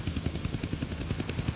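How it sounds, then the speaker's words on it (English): Steady, close rotor thumping of an attack helicopter in a Deadpool video game, a rapid even chop with no pauses. "I can't kill that chopper with my guns,"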